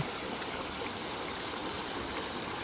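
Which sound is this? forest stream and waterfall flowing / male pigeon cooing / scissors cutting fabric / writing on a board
forest stream and waterfall flowing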